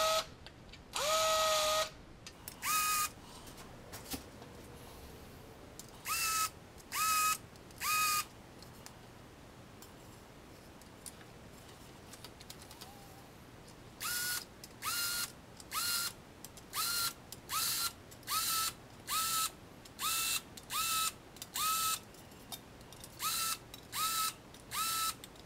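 A small motorized tool whirs in brief, evenly repeated bursts while deburring drilled holes in an RV-7 elevator trim tab, first a few scattered pulses and then a quick regular series, with near-silence between.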